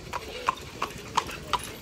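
A horse's hooves clip-clop along a park path built for horses in Seville, five even, moderately close hoofbeats in a steady walking rhythm over faint background noise.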